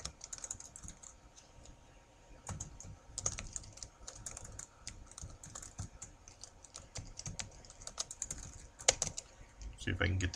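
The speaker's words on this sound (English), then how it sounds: "See if I can get the typing straight." Quiet, irregular keyboard typing with bursts of clicky keystrokes and short pauses, close by, continuing throughout.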